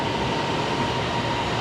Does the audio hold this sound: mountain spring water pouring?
no